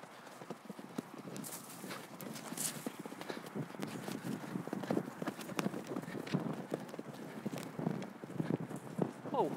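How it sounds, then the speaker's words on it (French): Horses' hooves clatter continuously at a horse show with a Ukrainian-made performance, a busy, irregular clip-clop of several animals moving over ground, at moderate loudness with some background noise and voices. "Jean-François prépare ses chevaux au nouveau numéro du spectacle élaboré en Ukraine"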